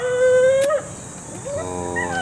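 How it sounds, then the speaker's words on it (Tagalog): A pet dog gives a long, loud wavering howl, then after a short pause breaks into a second rising, whimpering howl, close by with no talking. "Nagtatahol."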